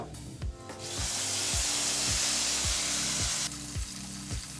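Ghee-fried raisins and cashews tip into hot moong dal kheer, giving a loud steady sizzle and hiss over a repeating low mechanical pulse, with a short clatter at the start.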